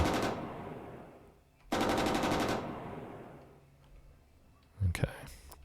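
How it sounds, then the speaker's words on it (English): Bursts of tank machine gun fire ring out in the video game Armoured Commander II: two sustained rapid rattling volleys, the second sharper and louder, followed by a brief loud impact thump near the end. "Firing our machine gun at him."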